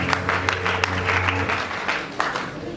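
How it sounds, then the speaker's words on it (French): An audience at an awards ceremony applauds in a steady, dense wash of clapping with a few sharper claps standing out, while a low steady hum runs beneath. "Sous vos applaudissements, s'il vous plaît."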